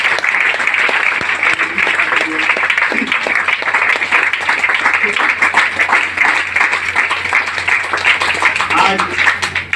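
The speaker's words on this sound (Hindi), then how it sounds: "जोरदार ताली हमारे" Loud, sustained applause from an audience at a DXN event, dense clapping filling the whole stretch without a break, with some voices mixed in.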